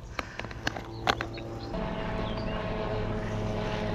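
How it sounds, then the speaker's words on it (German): A small propeller plane drones steadily at a moderate distance, its engine hum continuous, with a few sharp clicks early on. "Da kommt ein Sportflugzeug."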